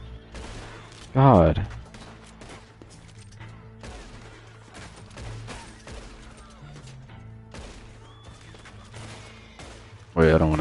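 Video game gunfire erupts in two loud, sharp bursts, one early and one at the very end, amid a busy game soundscape while players talk over it.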